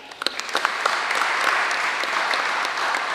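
Crowd applause for board members at an opening ceremony, starting with a few scattered claps that quickly swell into loud, dense, sustained clapping from a large audience.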